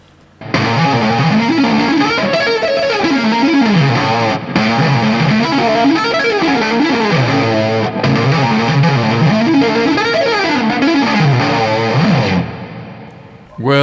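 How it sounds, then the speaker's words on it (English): Electric guitar played through a distortion effect, running melodic octave patterns in a steady, continuous phrase that is loud and close, with no talking. "Let's add some distortion."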